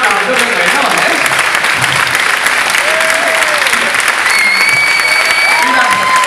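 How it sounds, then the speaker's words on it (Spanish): Audience applause fills a crowd at a Port Aventura theme-park show, steady clapping running throughout, with whistle-like tones and voices rising over it. "Oye, que bien, un aplauso muy bueno"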